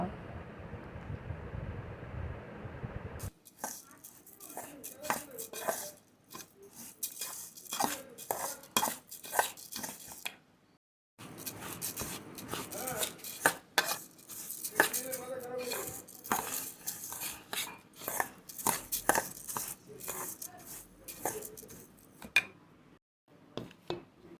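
A spoon scrapes and clatters against a metal pot while rice is mixed with ground garam masala and turmeric for Bengali basanti pulao, irregular close knocks and scrapes in bursts separated by brief pauses.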